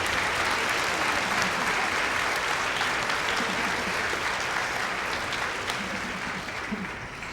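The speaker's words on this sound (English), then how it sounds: "So a round of applause for them." An audience claps for retiring teachers at a school promotion ceremony, a dense, even wash of applause from a crowd that fades slightly toward the end.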